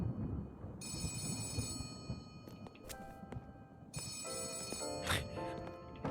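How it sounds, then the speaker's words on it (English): A telephone rings repeatedly inside the video game Letter Lost, bursts of bright trilling bell tones over a low rumbling ambient drone, fairly quiet overall. "The phone is ringing."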